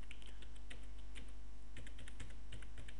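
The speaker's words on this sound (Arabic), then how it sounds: "كتبت انا كلمة السر وكنت طويلة" Fingers type a password on a computer keyboard, a quick irregular run of close key clicks over a steady low hum, with no speech.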